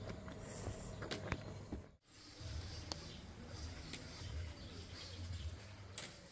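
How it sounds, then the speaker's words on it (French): Pigeons and other birds on town rooftops give soft, low cooing calls with a few brief chirps, steady and moderately distant, over a constant outdoor hum with one short dropout. "Et il y a des oiseaux partout, sur tous les toits."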